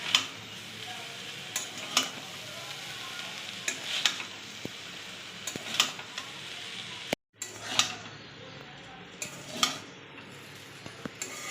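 Chicken chowmein stir-fried with pepper and a little sugar in a pan, a soft steady sizzle broken by repeated clinks and scrapes of a utensil against the pan, fairly quiet and close.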